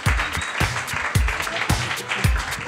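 Applause from a live podcast audience fills the space, with steady clapping punctuated by rhythmic heavy thumps, close and moderately loud throughout.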